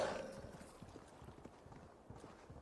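Horse hooves clip-clop in Assassin's Creed Valhalla, a steady series of soft, regular hoofbeats under faint background ambience, moderately close.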